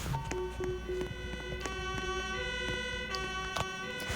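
A wailing ambulance siren in a video game repeats over a busy electronic background with a steady rhythmic pulse, loud and continuous throughout.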